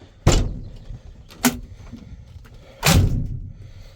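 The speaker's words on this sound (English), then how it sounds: "When you shut it, this all here moves." The door of a 1988 Dodge D100 pickup, with its panel removed and lacking a brace, is slammed shut three times, each a sharp, loud, rattling thud, with faint handling noises between.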